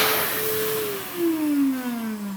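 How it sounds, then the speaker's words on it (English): An electric hand dryer blows a steady loud rush of air up close, its whine sliding gradually lower in pitch as it runs. "Did you hear the sound the hand dryer made? It was like an aeroplane taking off."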